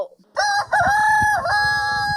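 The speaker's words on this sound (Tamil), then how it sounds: "சேவல்." A rooster crows one loud, close, sustained cock-a-doodle-doo, with a brief rising start and a long held tonal call, over faint background noise.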